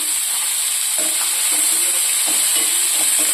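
Tomato pieces and onion frying in a pan, a loud, close, continuous sizzle with soft stirring scrapes underneath.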